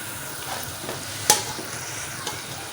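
Tinda and tomatoes sizzling in ghee and masala in a pan, a soft continuous frying hiss with a sharp scrape of a spoon stirring partway through and a lighter scrape near the end.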